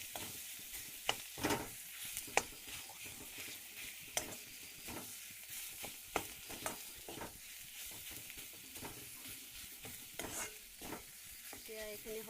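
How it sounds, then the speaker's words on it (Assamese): Onion, green chilli and potato stirred and fried in a pan for aloo paratha filling, with a steady sizzle under repeated scraping stirs and sharp clacks of the spoon, close and alone. "এতিয়া এইখিনি ভালদৰে মিক্স কৰি ভাজি ল'ম"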